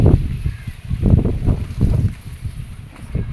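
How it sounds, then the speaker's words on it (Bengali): Strong wind sweeping across a rooftop garden, rumbling and buffeting close to the microphone in uneven gusts that rise and fall, with no voices. "আজকে প্রচুর বাতাস।"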